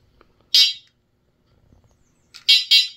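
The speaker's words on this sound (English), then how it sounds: "horn," A dual-motor electric off-road scooter's horn gives three short, shrill electronic beeps: one single beep, a pause, then a quick double beep, loud and close against silence.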